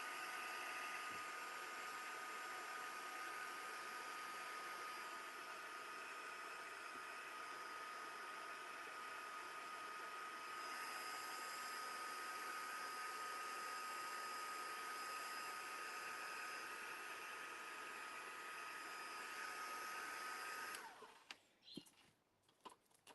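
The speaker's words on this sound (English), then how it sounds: "And now we just want to come in and dry our ovals and all of our stenciling" A heat tool runs continuously while drying painted ovals and stenciling, a steady close whir with a high whine, then it cuts off, leaving a few faint knocks and handling sounds.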